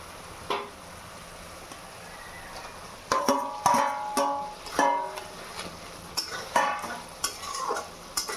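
Fried eggplant pieces go into a sizzling Bengali eggplant curry in a pan and are stirred, with repeated loud scraping strokes over a continuous frying sizzle.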